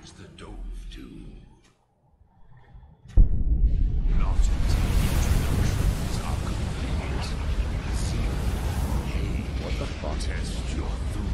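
A dragon shout of fire breath in the video game Skyrim erupts after a short quiet stretch, opening with a sudden loud burst and then a sustained roaring rush of flame that continues to the end.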